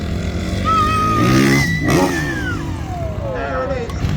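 A stunt motorcycle revs hard through a switchblade jump, the engine note rising, dipping and then falling away over a few seconds, with someone talking over the loud engine and wind.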